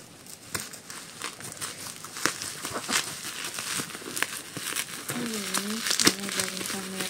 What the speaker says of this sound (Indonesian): Oke, kita coba unboxing dulu.